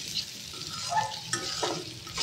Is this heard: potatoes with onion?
yes